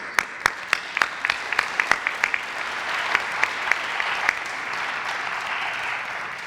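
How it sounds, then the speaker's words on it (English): At a police academy graduation ceremony, the audience applauds the academy instructors. Distinct nearby claps ring out first, then merge into a sustained, fairly loud wash of clapping. "let's give them a round of applause."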